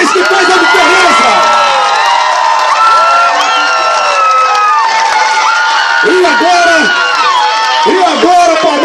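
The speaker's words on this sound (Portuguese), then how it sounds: "eu queria pedir a vocês uma salva de palmas para esse trio maravilhoso" A crowd cheering and shouting at a vote-thanks celebration, loud and continuous with rising whoops and yells, dense voices layered throughout with bursts of higher shouts near the end.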